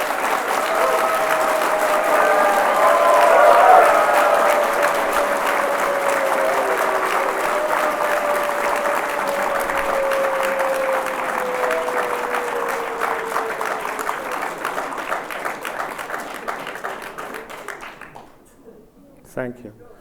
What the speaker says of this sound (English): You were applauding me, weren't you?